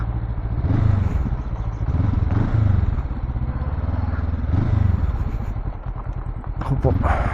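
A Honda CL500 motorcycle engine with stock exhaust chugs and revs in repeating surges, rising and falling as the bike rides off-road over rough ground, with voices heard over it.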